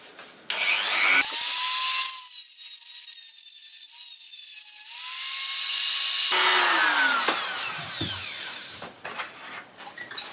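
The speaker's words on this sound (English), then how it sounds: "I guess I need to grind it off then." A power grinder cuts into metal on a part of a Sachs 50/3 engine from a 1962 KTM Ponny De Luxe scooter, a loud sustained high-pitched screech with whining tone shifts, dropping out briefly mid-run, then resuming and trailing off.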